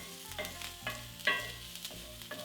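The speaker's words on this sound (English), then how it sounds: "Add the garlic, rosemary and thyme, some of the parsley. Give this a stir" Garlic, rosemary and thyme fry in a pan ahead of beef steak bites, with a quiet sizzle and repeated scrapes as a spoon stirs the herbs.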